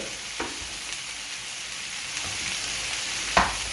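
Chicken and tomato fry wok-style in a pan, a steady close sizzle broken by a few sharp stirring scrapes, the loudest near the end.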